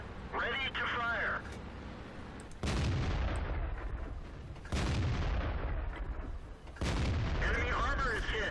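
Tank cannons fire in World of Tanks, three heavy booming shots spaced about two seconds apart, each with a long rumbling tail, amid game voice callouts.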